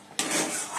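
A spoon scraping and stirring a sweet filling mixed with sugar and fried spices in a bowl, a sudden rough rubbing scrape that continues steadily, close up, with no voices.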